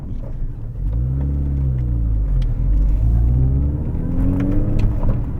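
Engine of a Mini Cooper S hot hatch on the road, a deep, close rumble that rises in pitch as it accelerates through the gears, with steady road noise and no talking.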